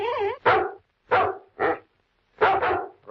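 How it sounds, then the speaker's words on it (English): A dog barks persistently as a radio drama sound effect, giving five or six sharp, close barks in uneven bursts separated by brief silences. "complained about the persistent barking of Kimball's dog"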